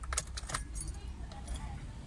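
Car keys jangle faintly in a Mitsubishi Lancer ignition as it is switched on, a soft metallic rattle over low engine-bay hum.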